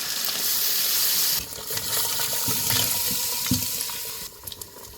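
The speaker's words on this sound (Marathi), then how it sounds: "आळणी पाणी ह्यात वतायचं" Water pours steadily into a pot of village-style Dongri mutton curry cooking in oil, a continuous loud gushing splash that runs for several seconds before easing off.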